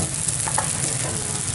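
Seafood fried rice sizzles loudly and steadily in a hot pan as a cook stir-fries it in a restaurant kitchen in Saigon, a dense continuous frying hiss with faint clinks and no talk.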